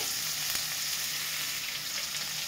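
Chopped capsicum and green chilli fry in a pan while being stirred, a dense and even hiss of close sizzling that holds steady throughout with faint utensil touches and no speech.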